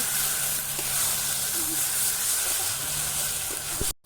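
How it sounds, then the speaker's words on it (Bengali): Ground ginger, garlic, green and dried chilli, and cumin frying in oil in a village kitchen, a loud steady hiss and sizzle for about four seconds before cutting off abruptly. "মশলাটা তেল ছেড়ে যাচ্ছে"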